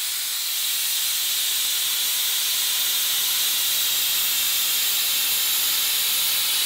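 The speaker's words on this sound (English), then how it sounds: "we will let the steam out" Steam vents from an All American stovetop autoclave sterilizer as its pressure is released, a loud, steady, broad hiss that holds constant without a break.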